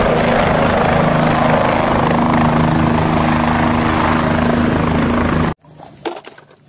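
A toy helicopter makes a loud, continuous whirring drone for several seconds, then cuts off abruptly, leaving quieter faint handling noises.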